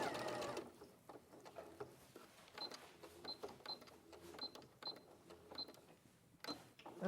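A domestic sewing machine stitches across a fabric flap in quiet, uneven bursts of rapid mechanical clatter with short pauses between runs, fairly close and moderately soft, with no talk over it.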